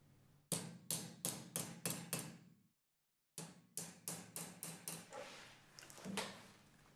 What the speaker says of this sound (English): Insert the 4 drive-in nuts, using the hammer to knock them in on the side of the body.